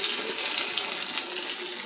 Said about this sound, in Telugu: మనకి చట్నీ ఎంత పలచగా కావాలో అన్ని నీళ్ళు